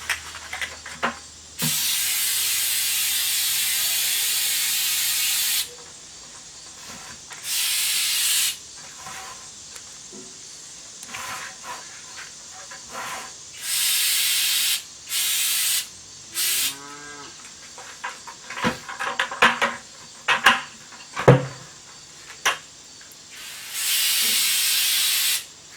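Flex Seal sprays from an aerosol can in bursts to lay on a thin coating, loud hissing blasts of several seconds each separated by quieter gaps with clattering handling noises.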